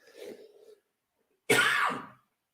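A person coughs twice indoors: a softer throaty cough, a pause, then a louder harsh cough, close and alone with no talking.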